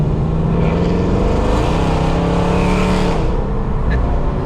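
A cammed 5.7 Hemi R/T with a catback exhaust runs loud and close, a continuous deep engine roar with a slight rise in pitch partway through and no break.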